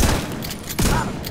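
Loud bursts of rapid gunfire in the video game The Division 2 crack out, a heavy volley at the start and another near the end, with dense shooting filling the gaps.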